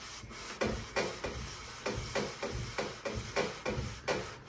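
A Subaru 2.5-litre cylinder head is rubbed back and forth over a flat abrasive slab, making a repeated rhythmic rasping scrape about twice a second, close and fairly quiet, with no talk.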